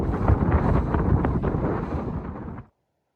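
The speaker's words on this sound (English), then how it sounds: "Windy, folks." Strong wind on an Arizona Trail ridge buffets loudly and roughly against the microphone for a few seconds, then cuts off abruptly into silence.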